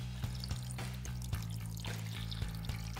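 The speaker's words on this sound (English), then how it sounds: "All right, I'm adding water." Water is poured into a soupy homemade glue-based gak mixture, making a steady splashing, trickling flow with small sloshing bursts throughout, close and fairly quiet, with no voices.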